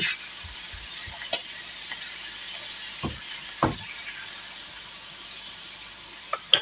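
Beef steaks frying in a pan for homemade hamburgers, a soft steady sizzle with a few sharp clinks and scrapes of a utensil against the pan.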